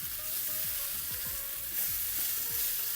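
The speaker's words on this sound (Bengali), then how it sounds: "এবার সিমের তরকারিটি দিয়ে ভালো করে নাড়তে থাকবো।" Bean curry with garlic and onion frying in a little oil, stirred vigorously with rhythmic scraping strokes over a constant bright sizzle, close and fairly quiet, no talking.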